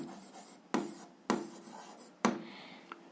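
Handwriting with a pen or chalk while working an algebra exercise: a few quick scratchy strokes with sharp taps between them, close and fairly quiet, with no talking.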